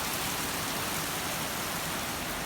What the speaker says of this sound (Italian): hai visto come piove?